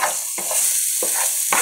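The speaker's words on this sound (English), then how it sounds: "And you're just gonna like fry this and mix it around." Lemon rice mixture frying in about two tablespoons of oil in a pan, a steady close sizzle broken by three distinct scraping stirs of a utensil, with no talking.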